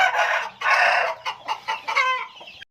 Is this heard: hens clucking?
yes